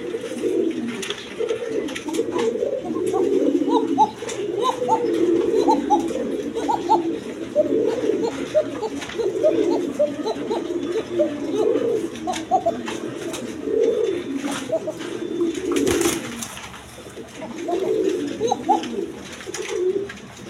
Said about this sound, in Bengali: কবুতর যদি ডাক টাক দেখতে চান অবশ্যই আমি দেখা দেবো